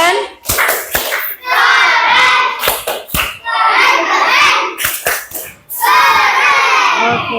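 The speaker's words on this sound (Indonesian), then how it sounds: "Kasih tepuk keren untuk kelompok 4." Schoolchildren in an Indonesian classroom perform a rhythmic clap cheer for a presenting group, with loud patterned bursts of claps and shouted chant syllables alternating with sharp pauses, close and energetic.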